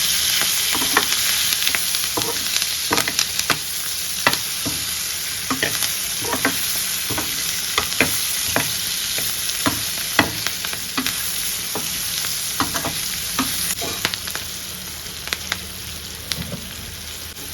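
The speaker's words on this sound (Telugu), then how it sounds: "సో జీలకర్ర పొడి, ఇప్పుడు కలుపుకోండి నీట్గా." A capsicum pickle mixture with cumin powder is stirred in a pan, and a spoon scrapes and taps in a steady, repeated rhythm over a constant close sizzle.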